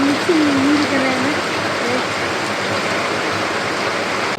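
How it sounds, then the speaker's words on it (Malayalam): Heavy rain pours steadily and loudly throughout, a dense broadband hiss like water drumming on surfaces, with a faint whistling tone near the start. "നല്ല അടിപൊളി മഴയാണ്"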